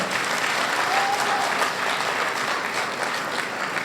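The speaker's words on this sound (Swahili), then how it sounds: "Tuwapige makofi tafadhali." An audience at a Yanga stadium presentation on the CAF Champions League final venue gives a continuous round of applause, moderately distant and even in level, with no clear talk over it.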